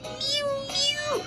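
A voice imitates a cat meowing in a sing-song children's song, giving two drawn-out mews close up, the second sliding downward at the end.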